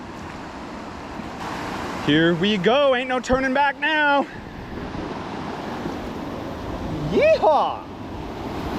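A raft running a class 3 river rapid, a big drop with a large wave. Steady rushing, churning water fills the clip while people shout and whoop excitedly over it.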